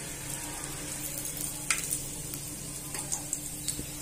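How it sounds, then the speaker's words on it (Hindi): Asafoetida, mustard seeds and cumin sizzling in hot oil: a faint, steady fry hiss dotted with small sharp pops and crackles, close by with no talk. "तेल के अंदर हींग डालना थोड़ा, राई,"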